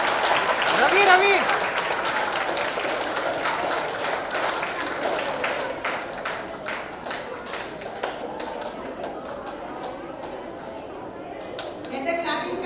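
Schoolgirls clapping at a school health and hygiene event, a steady broadband patter of many hands with a brief louder burst near the start, mixed with chatter and voices throughout.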